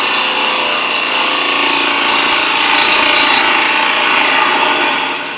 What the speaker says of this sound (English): and take a shaving off the surface there